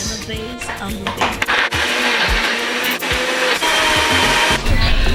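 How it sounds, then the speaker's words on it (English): An electric kitchen blender blending ingredients for Banga soup, a loud, steady whirring motor roar close by with shifting grinding tones as the contents churn, running throughout. "I will close my blender and allow it to blend"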